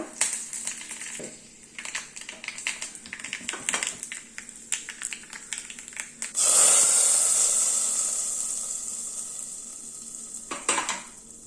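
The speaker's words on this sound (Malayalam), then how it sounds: "ഇനി നമുക്ക് പുളിശ്ശേരിക്ക് ഒരു വറവും കൂടെ ആയാൽ എല്ലാം റെഡിയാവും" Mustard seeds, fenugreek and curry leaves are tempered in hot oil for a vegetarian Kerala lunch: scattered clinks and light stirring, then a loud burst of sizzling and crackling that slowly fades, with a final clatter near the end.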